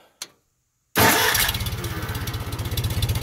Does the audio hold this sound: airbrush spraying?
no